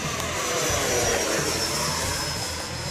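An FMS FA-18F Super Hornet 70mm electric ducted fan RC jet flies at half throttle, giving a steady, broad whooshing whine that holds evenly throughout at moderate distance.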